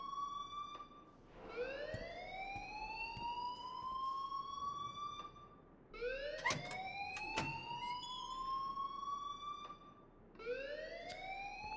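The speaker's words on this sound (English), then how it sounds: "please turn off that alarm since that's your job" A rising electronic siren-like alarm wails repeatedly inside a school building in Life is Strange, each sweep climbing in pitch and holding before restarting, moderately loud with a faint background hum.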